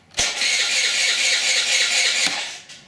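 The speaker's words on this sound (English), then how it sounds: "The electrical system works, the engine turns over, that's great news" A Honda Elite 80 scooter's engine cranks over on its electric starter, a loud continuous whirring churn lasting over two seconds before cutting off, close and alone.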